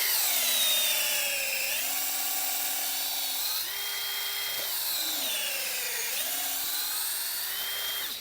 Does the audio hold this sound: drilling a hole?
yes